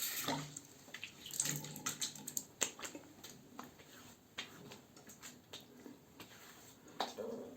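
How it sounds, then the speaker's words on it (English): Water running from a tap to rinse soap during a wet shave, a faint trickling splash with irregular small splashes and taps, close and quiet throughout. "I will rinse a little bit of soap."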